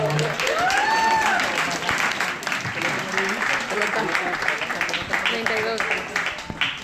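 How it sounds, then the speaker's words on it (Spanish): Guests at a birthday party in Tampico Alto, Veracruz, clap in a sustained burst of applause, a busy crowd texture with voices and party noise mixed underneath. "Un fuerte aplauso, saludos, por favor."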